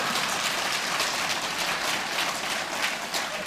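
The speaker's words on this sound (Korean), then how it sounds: "저한테도 박수 좀 쳐주십시오" Dense, steady applause from a crowd at a political party's Seoul chapter founding convention, a continuous hiss-like patter of many hands with no talking.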